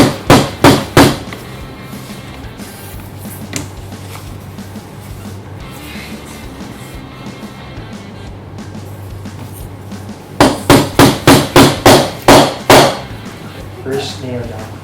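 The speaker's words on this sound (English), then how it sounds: "Start nailing it down." Hammer strikes driving nails into a handmade wooden box, with rapid bursts of four or five sharp, loud blows at the start and again near the end, and a quieter stretch between them where someone talks.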